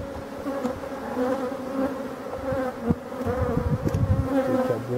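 A dense, steady buzz of many honey bees swarming around a hive, close and continuous, with no voices.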